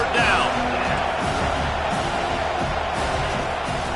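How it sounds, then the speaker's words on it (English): Stadium crowd roaring steadily in a college football video game, Arizona State at Miami, with a dense, sustained wash of cheering and noise on a defensive third down, while commentary runs over it. "Decibels rising as the crowd gets behind this defense on third down"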